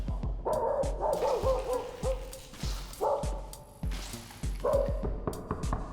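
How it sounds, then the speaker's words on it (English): A dog in the horror video game Moldrise barks in a regular series of sharp, fairly loud barks, roughly one every half second, with short gaps between groups. "Dog."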